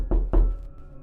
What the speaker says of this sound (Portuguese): de repente baterão na porta